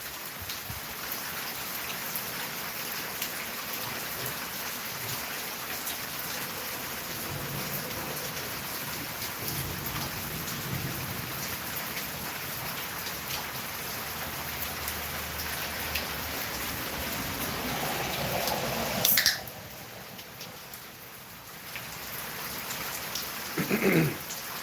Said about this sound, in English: Got a beautiful overnight thunderstorm with thunder, lightning,